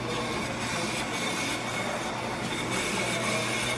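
A brake lathe cuts a brake rotor with a continuous grinding hiss and faint rhythmic scraping from the turning disc, steady and close throughout.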